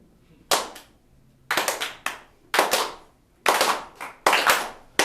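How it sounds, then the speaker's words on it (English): A deliberate slow clap at a comedy show: a few hands strike together in spaced, emphatic bursts about once a second, each clap ringing out loudly against near silence. "You deserve a slow clap."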